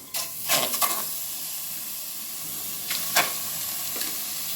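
Sizzling bursts as pieces of mutton hit a hot preheated pressure cooker, a few loud crackling hisses followed by softer steady frying.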